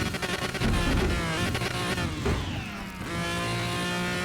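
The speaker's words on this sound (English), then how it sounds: "That's how to launch a car." A game Pagani Huayra tuned to over 1300 horsepower launches and accelerates in Car Mechanic Simulator 2021, its engine note rising in pitch through quick gear changes, loud and close, then settling into a steady high drone.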